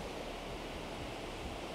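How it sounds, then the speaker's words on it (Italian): Waterfall seen from the top, a steady full-band roar of rushing, falling water, loud and constant throughout with no voices over it. "Vi ho portato fino in cima per farvi ammirare lo spettacolo della cascata"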